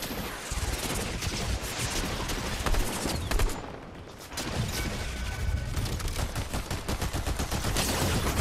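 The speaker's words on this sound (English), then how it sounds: "Somebody's shooting at me from over there somewhere." Gunfire in the Fortnite video game, sustained bursts of rapid shots with a brief lull midway before the shooting resumes, loud and close.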